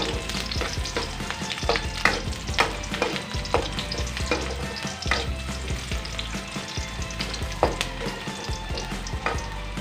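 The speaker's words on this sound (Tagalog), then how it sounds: "Gawin natin mag-until brown yung ating mga nilagay na garlic, onion at ginger." Garlic, onion and ginger sizzle steadily as they sauté toward brown in a pan, with repeated scraping stir strokes cutting through the constant frying hiss; close and fairly loud, no talking.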